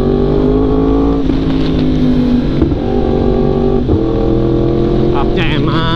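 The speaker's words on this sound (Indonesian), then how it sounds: "kita gas lagi nyobain quick shiftnya" A Yamaha R1M sport motorcycle accelerates hard with its quick shifter, its loud, close engine roar climbing in pitch with brief clipped dips at each rapid upshift.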